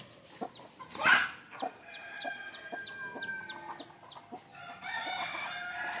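Native country chickens clucking at their coop in the early morning, a quick series of close, repeated clucks with a rooster-like burst near the start and soft rustling around them.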